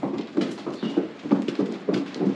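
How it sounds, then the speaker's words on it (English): Horses walk in through an opened farm gate, their hooves clip-clopping in a steady, uneven rhythm close by, several animals moving together without talk. "we're gonna open up the gate and let the horses in"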